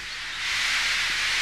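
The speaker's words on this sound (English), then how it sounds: "Henry still stayed in the tunnel and blew steam at him" A steam engine blowing off steam inside a railway tunnel, a loud sustained hiss that swells after a brief start and holds steady throughout, with no voices.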